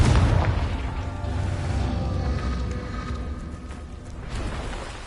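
A Confringo spell explosion in Hogwarts Legacy gameplay opens with a loud booming burst, then a long rumbling decay and a second, softer burst near the end, with no talk over it.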